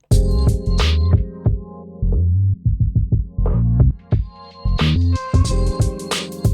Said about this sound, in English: You got the filter drive, which is basically a low pass filter.